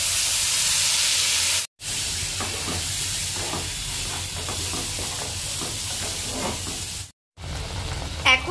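Cumin seeds and spice paste sizzling in oil left from frying boal fish, a steady close hiss and crackle broken by two brief silent gaps.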